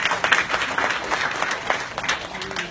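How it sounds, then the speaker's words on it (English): Audience applause at a SIIMA awards press meet in Singapore, a dense, steady wash of many hands clapping from the room for the full stretch, fairly loud and with no talk over it. "A big round of applause for Purnimaji."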